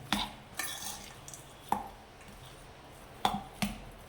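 A spoon mixing lemon pulihora rice with salt and chana dal in a vessel, a few sharp scraping clinks spaced apart over a quiet background, close and moderately loud.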